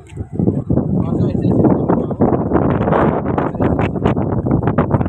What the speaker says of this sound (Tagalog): Medyo mahangin na natin camera